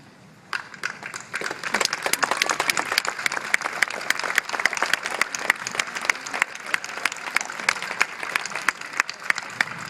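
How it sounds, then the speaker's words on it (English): At a graduation ceremony, standing graduates give a round of applause: starting abruptly after a brief pause, dense crowd clapping with sharp individual claps standing out, loud and sustained to the end. "I would like to ask the graduates to stand and give you a round of applause"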